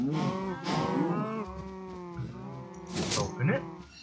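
Cows mooing in a Minecraft cow farm, several drawn-out lowing calls one after another at close range, with a person talking over them.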